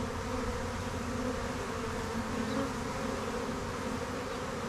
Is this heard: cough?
no